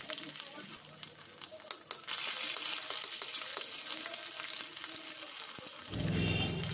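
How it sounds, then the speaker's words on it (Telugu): Ginger garlic paste fries in hot oil in a pan, sizzling and hissing as it is stirred, with a voice talking faintly over the cooking noise. "వేసుకుని పచ్చివాసన పోయేంత వరకు వేయించుకోవాలి"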